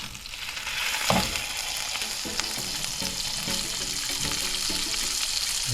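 Salmon fillet, seasoned with salt and pepper, sizzles steadily in a hot pan after being turned, a continuous close frying hiss with a few soft scraping and clinking touches and no talk.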